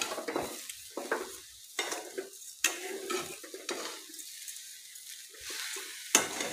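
A spoon stirs a sugar and coconut mixture in a pan over medium heat, giving intermittent scraping strokes and soft sizzling with occasional sharp clinks of utensil on metal, close and clear with no talking.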